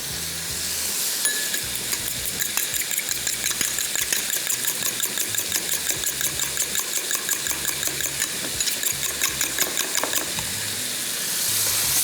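Creamy chicken pie filling fries in a pan with a dense, loud sizzle, while a utensil scrapes and stirs in a steady repeating rhythm throughout.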